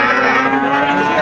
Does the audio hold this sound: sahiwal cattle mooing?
yes